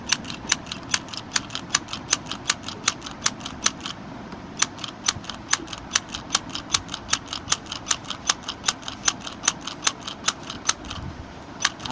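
A handy sewing machine stitches old cloth at high speed, giving a rapid, evenly spaced run of sharp mechanical clicks that continues steadily with one brief pause.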